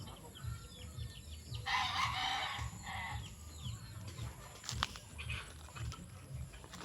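Chickens near a rice field cluck while a rooster crows loudly and close by, with steady farmyard bird chatter and a low background hum throughout.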